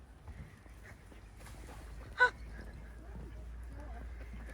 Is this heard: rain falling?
no